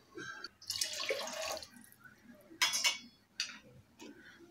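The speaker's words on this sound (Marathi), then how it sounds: "2 वाटी पाणी घालायचं आहे याच्यामध्ये." Water is poured into a pressure cooker holding soaked rice for paneer biryani, giving a few short splashing bursts with brief pauses between them, close and fairly quiet.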